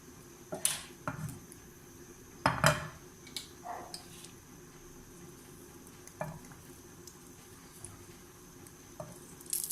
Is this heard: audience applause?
no